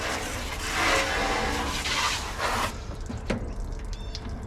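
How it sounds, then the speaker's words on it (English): Vegetables are washed under an outdoor tap, with running water splashing steadily for a few seconds before it eases into lighter trickles and drips. "I process and clean and wash a lot of vegetables this way."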